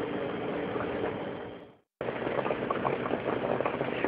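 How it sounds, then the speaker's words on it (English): Salted codfish boils in a pot of water, a dense, steady bubbling roar at moderate level that cuts out briefly midway before resuming just as strongly. "codfish, you know, boiling"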